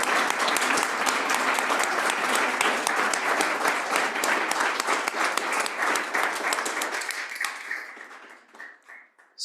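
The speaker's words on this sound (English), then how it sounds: "All at once, a round of applause," A roomful of people at a company board meeting applauds honored long-service employees, a dense round of clapping that thins out into a few scattered final claps before silence.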